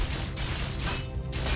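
A hero smashes down with a hammer in Warcraft III, a dense crashing impact over a constant loud wash of battle noise, with short bursts of harsh clatter recurring through it.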